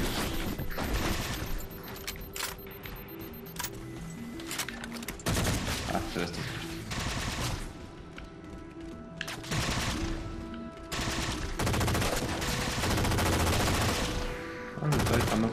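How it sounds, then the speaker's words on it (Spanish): Rapid weapon fire in Halo 4 campaign combat, dense bursts of automatic shots and energy blasts crackling almost continuously with brief lulls, loud and close, mixed with game effects and a voice talking over it. "Ah, me está disparando con un rayo."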